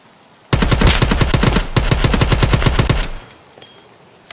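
Rapid automatic gunfire in the shooter game Escape from Tarkov, a loud close burst of evenly spaced shots lasting about two and a half seconds with a brief pause, then fading into a quiet tail.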